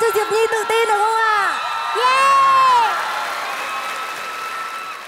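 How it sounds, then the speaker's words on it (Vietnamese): An audience at a children's TV singing competition applauds and cheers under a loud host's voice, with sustained clapping and whoops that swell midway and then fade. "Thêm một tràng pháo tay nữa cho Diệp Nhi tự tin được không ạ?"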